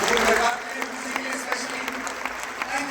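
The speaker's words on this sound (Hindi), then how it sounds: "जोरदार तालियां एक बार।" A motivational talk audience gives a round of applause, a dense wash of clapping that fades slightly after the first half second with scattered claps continuing, heard with a faint voice underneath.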